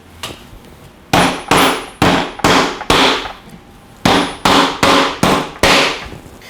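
A hammer drives T-nuts into a pre-cut wooden box for a 4Runner build, with about ten sharp, loud, close strikes in two separate bursts and no talking.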